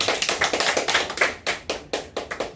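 Hands clap during a badminton training drill: a quick run of sharp, close claps, then a few slower, evenly spaced ones, with no voices.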